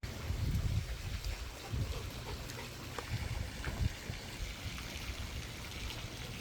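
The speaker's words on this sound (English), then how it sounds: "A little windy out." Wind blows outdoors at a plant nursery, a steady low rushing with gusty buffeting against the microphone, continuous and fairly loud throughout with no talking.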